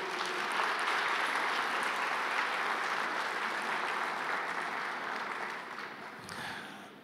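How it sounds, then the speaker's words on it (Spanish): A church congregation breaks into a loud, sustained round of applause during a Sunday service, a dense steady roar of many hands that holds for several seconds before easing off slightly near the end. "denle un fuerte aplauso al Señor"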